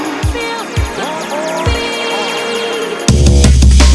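A vocal is stretched and smeared with a time-stretch style effect, pitched lines sliding over a beat whose kick hits sparsely before a loud full mix crashes in near the end.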